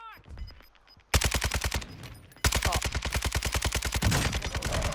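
Rapid automatic gunfire in Call of Duty Warzone 2.0, first a brief burst, then long sustained bursts of sharp, evenly spaced shots, loud and close, with a voice briefly heard at the start.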